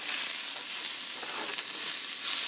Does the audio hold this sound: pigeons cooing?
no